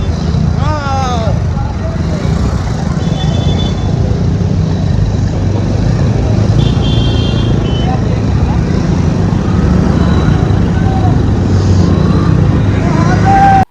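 Vehicles drive past on a village road in heavy stormy rain, a steady wash of rain and engine rumble with passing vehicles, while people talk throughout.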